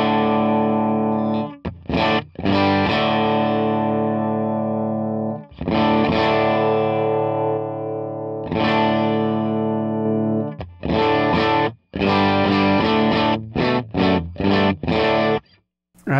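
Electric guitar played through a Fractal FM9 amp model with compression and distortion, ringing out sustained chords that alternate with choppy, rhythmic strummed bursts, loud and upfront.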